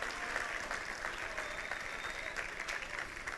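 A church congregation applauds during a Sunday service, with steady, dense clapping across the room at a moderate distance and no clear voices.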